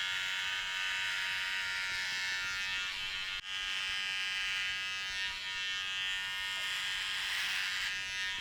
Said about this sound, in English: So now I can go in and get started with the trimmers.